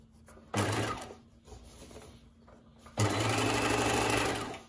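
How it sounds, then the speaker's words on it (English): A sewing machine runs in two bursts, zigzag or overlock stitching along raw fabric edges, each run a close, steady whirring hum with a quieter pause between. "you just zigzag or overlock if you have one"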